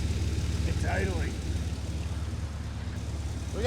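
A 1972 Chevrolet Corvette engine idles at about 1500 RPM with a steady, low, throbbing rumble, close by and continuous, with a few brief higher sounds over it.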